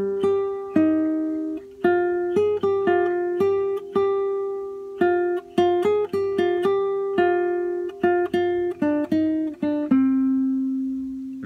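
An acoustic guitar picks out the melody of a song note by note, mixing open strings with fretted notes in a steady, plucked phrase. It is close and clear, with no talking.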